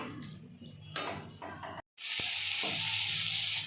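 Bathua greens sizzle and spit in hot fish oil in a pan, a steady close frying hiss with a brief pause before the sizzle swells loud and continuous again.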